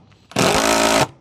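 A power tool cuts through a Colorbond metal roofing sheet, a loud steady buzzing whine lasting under a second, close up and alone.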